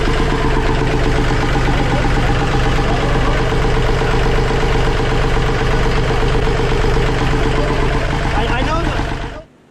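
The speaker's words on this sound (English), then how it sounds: "finally we start the engine, and the engine is running in good condition." A Yanmar 3JH5EC marine diesel engine runs steadily and loud at close range, with a dense mechanical clatter. The engine stops abruptly just before the end.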